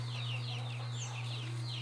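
A rooster on a small rural farm clucks in a quick repeated series of rising calls over a steady low hum.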